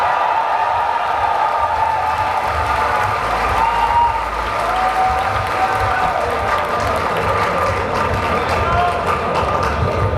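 A literature festival crowd in Pakistan applauds to welcome poet Umair Najmi onstage, a loud, steady roar of clapping lasting throughout, with cheering mixed in and voices underneath.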